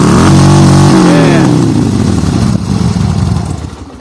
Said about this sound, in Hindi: और आज आपके सामने ये बाइक ये स्टार्टिंग होते हुए ये बढ़िया था स्टार्टिंग।